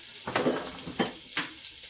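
Chopped onions and a head of chopped garlic hit a hot pan where cube steak was just browned, giving bursts of sizzling frying with a few stirring scrapes, close and moderately loud, no talking.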